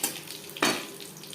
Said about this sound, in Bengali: 15-20 সেকেন্ড তেজপাতা জিরে ভেজে নেওয়ার পর